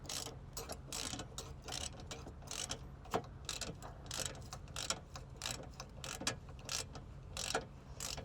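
Ratcheting wrench loosening an unrusted bolt while removing a car horn, a quick run of repeated clicking strokes, close and fairly faint, with no speech.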